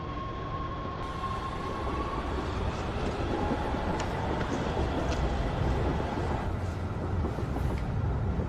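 A subway train running along its line, a steady loud rumble and rushing roar from inside the car with faint clicks and squeals over the continuous noise.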